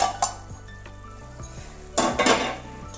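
A metal lid is lifted off a pot of bitter gourd cooking with mustard paste, giving a few light clinks and a louder clattering scrape near the end over a faint sizzle.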